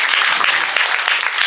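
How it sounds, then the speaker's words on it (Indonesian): A crowd applauds at a Calonarang performance at Pura Dalem Prajurit Medahan in Gianyar, Bali, in a dense, steady roar of clapping throughout the short moment. "Tepuk tangan untuk kita semua."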